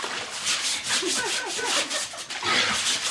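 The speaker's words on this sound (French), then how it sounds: "On brosse." Stiff brush scrubbing laundry by hand, a quick run of rhythmic back-and-forth rasping strokes, close and fairly loud, with no talk over it.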